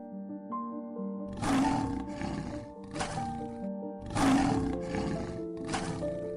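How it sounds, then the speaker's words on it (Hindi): A lion in a Hindi children's cartoon lets out deep, loud roars, two main bursts with shorter growls between them, set over a sustained musical score. "एक भयंकर शेर जंगल में आ गया।"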